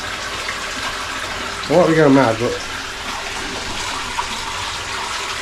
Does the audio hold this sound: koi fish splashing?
yes